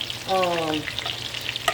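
Oil sizzles and crackles steadily as chicken fritters fry close by, with a short tonal squeak near the start.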